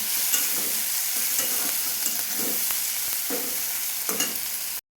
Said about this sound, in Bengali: আলুর টুকরোগুলোকে দিয়ে এই মশলার সাথে একটু ভাজা ভাজা করে নেব